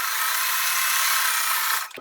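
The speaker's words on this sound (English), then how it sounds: "Now I'm just going to sew those three pieces together." A sewing machine stitches three fabric pieces together for a crumb quilt block, giving a steady, close motor whir for about two seconds before it stops abruptly.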